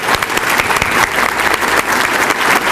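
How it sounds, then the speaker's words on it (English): Audience at a Suffolk State of the City event applauds the chamber board, a dense, steady burst of clapping from a large room crowd. "Let's give them a round of applause"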